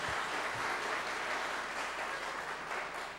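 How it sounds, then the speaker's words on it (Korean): A church congregation at a revival festival service claps in a dense, steady wash of applause throughout, slightly fading at the close, with no voices over it. "자, 다시 한번 박수 해봐요."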